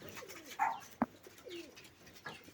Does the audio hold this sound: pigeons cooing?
yes